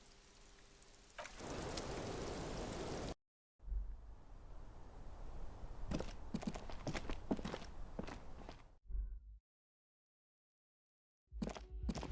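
Steady rain hisses in the Disco Elysium video game, broken by footsteps and brief cuts to silence, with the patter returning at the end.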